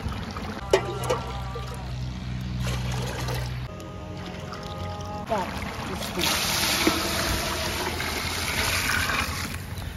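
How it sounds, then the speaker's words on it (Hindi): Water pours steadily into a large pot of chicken biryani being cooked in a big degi, a rushing splashing flow that swells louder in the second half, with some clatter early on. "अब मैं इसके अंदर पानी डालने लगी।"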